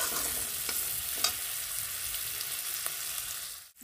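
Shrimp frying with potato and pointed gourd peels, an even sizzling hiss with a few soft stirring scrapes, ending in a brief dip and a sharp burst.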